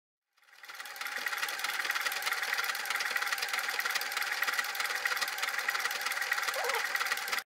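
A sewing machine runs steadily at speed, stitching an overlock or zigzag seam on a quilted recycled-denim tote bag, a continuous close whirring hum for several seconds with no talk over it.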